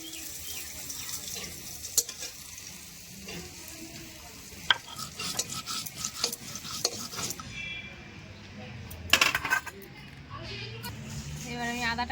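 Spice masala fries and is stirred in a pan on a stove, with irregular scraping and sizzling bursts and some water splashing, under intermittent talk.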